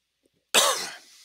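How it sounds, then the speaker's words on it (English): A single sharp, harsh cough breaks a brief silence, close and loud, then trails off. "We're the coughing bunch right here."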